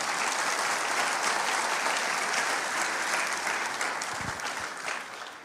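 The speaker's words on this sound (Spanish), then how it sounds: "Dele una ofrenda de palmas al Señor, hermano." A congregation at a pastors' retreat gives sustained applause, a full, even roar of clapping from many people that holds steady and then tapers off toward the end.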